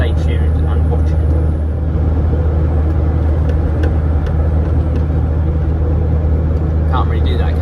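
A DAF truck drives along with a steady, loud low-frequency engine rumble and road noise throughout, broad and constant from cab level, with a few faint higher ticks over the top.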